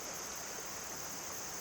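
A pristine creek in a southeastern forest in autumn flows in a soft, steady, faint rush of water, with no voices.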